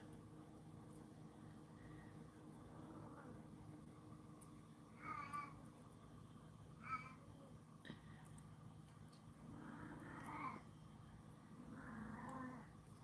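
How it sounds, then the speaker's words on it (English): Cats meow indoors, faint short calls coming every couple of seconds over a low background hum, with no talking. "I have talkative kitties today."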